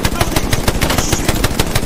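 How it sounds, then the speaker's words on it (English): Sustained rapid automatic gunfire in a video game, loud, close and continuous, a steady stream of sharp shots with no pauses. "Suppressive fire!"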